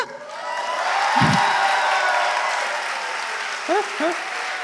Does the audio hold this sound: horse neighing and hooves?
no